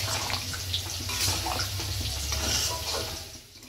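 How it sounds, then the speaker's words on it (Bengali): Water being poured into curry gravy in a pan during home cooking, a steady splashing pour close by that runs continuously and trails off at the end, with no speech. "এইবার গ্রেভি যতটা প্রয়োজন ততটা জল দেওয়া হবে।"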